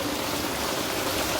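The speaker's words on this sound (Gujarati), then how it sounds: "વરસાદ પાછો ધીનો ધીનો પાછો ચાલુ થઈ ગયો છે" Light rain falling steadily in a village, a dense, even patter with no voices.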